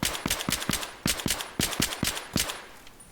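QBU-88 marksman rifle fire in Battlefield 3: a dozen or so sharp, close single shots in an uneven, fairly quick rhythm, with nothing else heard between them.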